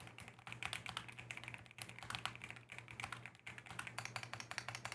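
Rapid typing on a Keychron Q6 Max mechanical keyboard, a dense stream of close clacking keystrokes with a low steady hum beneath, quiet overall and without speech.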